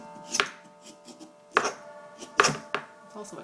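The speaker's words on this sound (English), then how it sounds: "You have to be a little aggressive in order to scrape all the skin off," A tool scrapes and gouges at the thick skin of a pumpkin being carved, giving several sharp, close scraping strokes at irregular intervals with quieter rasping between them.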